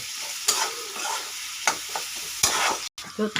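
Finely chopped onion fries in hot oil in a pan while being stirred, a steady sizzle broken by periodic scraping strokes of a spoon against the metal, close and moderately quiet.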